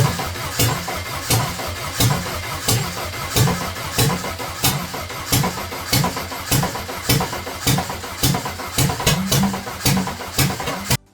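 An MGB GT engine being bench started churns with a rapid, steady rhythmic beat at close range and holds level throughout the run before cutting off abruptly.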